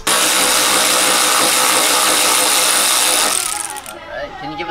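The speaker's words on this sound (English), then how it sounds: "We're using the Matco battery ratchet cordless." A Matco cordless battery ratchet whirs loudly and continuously for over three seconds, then winds down to quieter rattling background noise.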